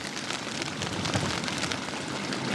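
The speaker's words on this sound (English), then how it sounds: "The rain does not last forever." Steady rain patters on a tent pitched in the mountains, a dense continuous hiss of drops with no break, fairly close and even in loudness throughout.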